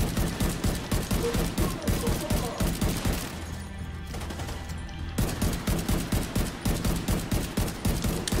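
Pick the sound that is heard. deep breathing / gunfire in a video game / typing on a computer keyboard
gunfire in a video game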